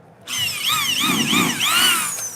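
Power drill boring into stainless steel at a tool booth, a loud, steady high whine with wavering pitch starting abruptly after a brief pause and running without break, with no talk over it.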